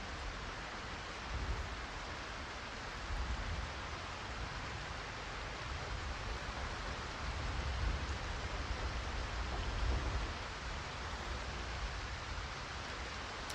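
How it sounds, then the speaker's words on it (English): Rain in the video game Project Zomboid falls as a steady, dense hiss with a low rumbling undertone, unbroken and even throughout. "Also, this rain, good lord."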